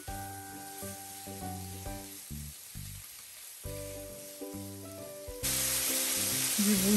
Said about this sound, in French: je renverse ensuite mes cubes de bœuf. Ça se passe à feu moyen.